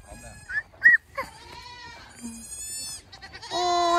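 Goats at a farm in Austin, Texas bleat in several short, wavering cries close by, with a voice and other talk mixed among the calls.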